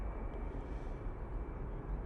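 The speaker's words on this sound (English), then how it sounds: "that was a good takeoff." A plane taking off at Manchester Airport, heard as a steady broadband engine roar at moderate distance, continuous and even throughout with no voices.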